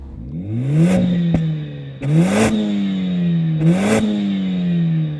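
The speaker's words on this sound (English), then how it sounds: "Let's see if a 4-cylinder engine sounds better. Go on, start the Mercedes." A Mercedes four-cylinder engine revs up and drops back three times in a row, each rise followed by a slow settle, loud and close with no talking.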